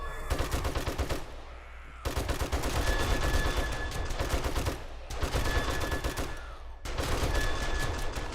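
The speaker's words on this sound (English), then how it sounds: "Again, the turret is supplementing my fire. And shooting them as well." An automated turret and a player's gun fire in 7 Days to Die, sustained loud rapid bursts of shots in three long runs separated by short breaks, close and harsh.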